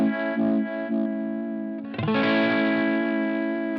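Electric guitar through a Uni-Vibe style effect on a Line 6 Helix in vibrato mode, a sustained chord with a wavering pitch warble, then a fresh strum near the two-second mark that rings on, moderately quiet with no talking.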